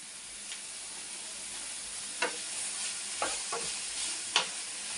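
Three green chillies fry in hot oil in a pan for a mushroom tikka masala, a steady close sizzle punctuated by a few sharp spatula scrapes and clicks.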